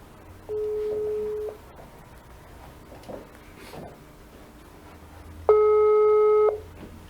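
A phone line dialed during a live radio show call-in returns two loud electronic busy-signal tones, each about a second long, separated by several seconds of quiet room noise.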